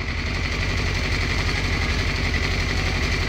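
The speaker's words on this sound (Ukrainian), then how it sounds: "Для цього треба прогріти двигун" A Yamaha FZS 600 Fazer motorcycle engine idles while warming up, close, a low, even throbbing rumble that holds without revving.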